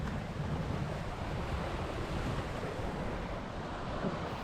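Waves and wind rush around a sport boat sailing downwind in freezing conditions during an overnight race, a dense, continuous roar of surf and wind buffeting the microphone, with no voices.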